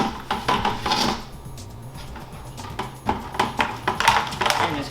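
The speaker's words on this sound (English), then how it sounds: "I'm going to use a cheese grater" Bar of homemade laundry soap scraped across a metal cheese grater on the floor, giving repeated rough rasping strokes in bursts with brief pauses, close and fairly loud.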